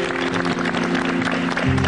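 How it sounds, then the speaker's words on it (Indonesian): Studio audience at an Indonesian television show applauds steadily in a dense wash of clapping, with a low sustained hum running beneath it. "tepuk tangan untuk kita semua"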